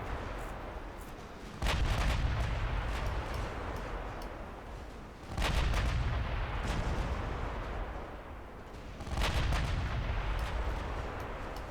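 Heavy naval gunfire from battleships in the Ultimate Admiral Dreadnoughts warship game, three booming broadside salvos spaced a few seconds apart, each a loud low blast that rolls off into a long rumbling decay.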